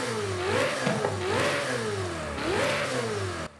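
A Ferrari 488 Corse Clienti GT3 car in Forza Horizon 5 revs three times, each time climbing and then falling back. The engine is heard alone, loud and close.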